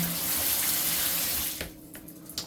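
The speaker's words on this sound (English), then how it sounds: "I can feel the shower the shower head moving about in my hand, so that shows there's good pressure on the water." Water streams hard and steady from a handheld showerhead with strong pressure, a loud dense hiss that cuts off partway, followed by a few drips and small knocks.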